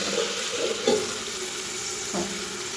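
Water poured into a hot pan of frying samosa filling, giving a steady broad hiss and sizzle with a few brief splashy bursts, close and fairly loud, no talking.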